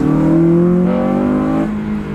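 A Honda Civic Type R FN2 fitted with a budget induction kit revs, and its intake roars loud and close. A strong tonal engine note rises and then falls away at the end.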